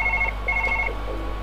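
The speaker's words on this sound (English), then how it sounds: "let's just answer the damn phone" A telephone ringing in the surgery game Surgeon Simulator, heard as two short electronic ring bursts with a brief gap between them over a steady low hum.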